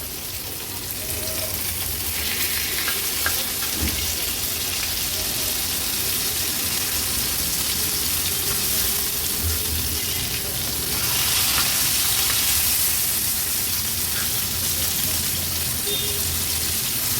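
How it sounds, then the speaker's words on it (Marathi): Pieces of halva fish fry on a tawa, a continuous moderate sizzle with occasional small pops and a brief swell in loudness partway through. "मागच्या बाजूनी पण अगदी व्यवस्थित तुकडी आपली फ्राय झाली आहे"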